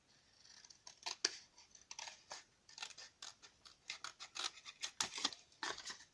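Scissors snipping through a cardboard matchbox, a quick series of short, crisp close cuts with small pauses between them, quiet and with no talking.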